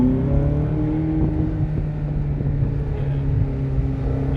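A Ferrari accelerating in third gear delivers a steady, close engine drone with a low harmonic hum that holds throughout, heard from inside the car without talk.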